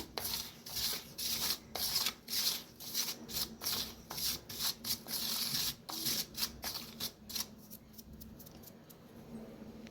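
Semolina and rice flour mixed together by hand in a bowl, a close, steady run of rough rubbing and scraping strokes with a low hum underneath, growing sparser toward the end.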